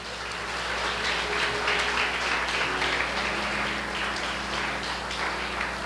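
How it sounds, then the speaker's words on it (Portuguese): Church congregation applauding during a sermon service, a continuous, even roar of many hands clapping at moderate loudness, with a faint sustained tone lingering beneath. "Você pode aplaudir ao Senhor?"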